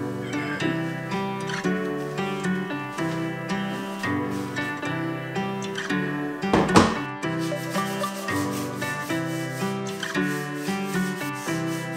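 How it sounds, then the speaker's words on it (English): Rhythmic back-and-forth sanding on varnished wood between coats, close and steady, with a brief louder scrape midway. "need to sand in between coats of varnish"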